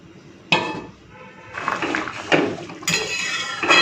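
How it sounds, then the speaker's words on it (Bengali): A lid goes onto a pot of potato and taro simmering in water with a sharp metallic clang. Further clanks and rattles follow as it settles, close and fairly loud, with no voice. "চলুন এরপরে ঢাকা দিয়ে রান্নাটা করি"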